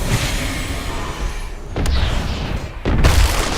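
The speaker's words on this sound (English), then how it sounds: "here comes the explosion" A booming blast in a video game raid boss fight, rumbling loud and low, with two sharp impacts swelling the noise near the end, no talking over it.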